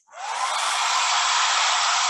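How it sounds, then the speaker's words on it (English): A hair dryer switches on and blows steadily at a toy house in a preschool science activity, a loud, continuous broadband whoosh lasting about two seconds with no talking. "I have a hair dryer. We're going to pretend that that's the big bad wolf."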